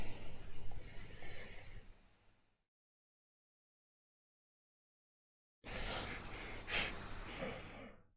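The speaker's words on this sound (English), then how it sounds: "It was like a breathing sound." A breathing sound amplified in a headset: soft, close breathy exhalations cut off by a stretch of total silence, then returning louder with a sharp gasp-like burst.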